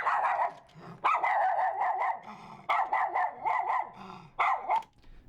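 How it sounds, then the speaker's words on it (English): A miniature schnauzer barks in a quick series of sharp, close yaps and short growly bursts, grouped in several rapid runs with brief pauses between. "Play the authentic miniature schnauzer."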